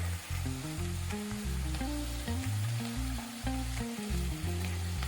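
Vegetables fry in a pan with a loud, continuous sizzle, close by, as they are stirred. Intermittent scraping and clattering of the stirring run through the sizzle, with no voices.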